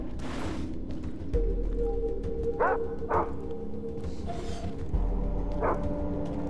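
Several dogs bark in quick, scattered yaps at mid distance over a steady game soundscape with thumps, in the Far Cry 3 video game; no talk.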